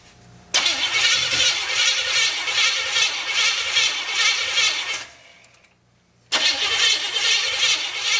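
A Chevrolet 350 SS V8 engine cranks and churns loudly for several seconds on its first start attempt, stops briefly, then cranks again, close up with no voices.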